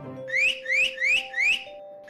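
A sharp warning whistle signalling that someone is coming: four quick rising whistle blasts in a steady rhythm, close and clear, over a faint constant tone.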